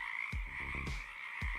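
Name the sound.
frog croaking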